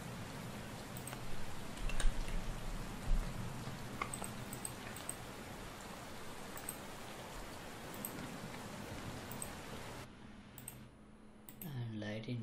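A looping rain sound effect for an Unreal Engine thunder and lightning scene plays as a steady hiss of falling rain with scattered clicks, cutting out near the end as a voice begins to talk.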